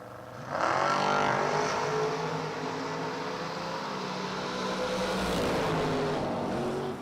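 A 1970 Camaro drag racing a Chevelle down the strip, engine roaring loud and close after a quiet start, pitch climbing and holding through the full-throttle run before sweeping past near the end.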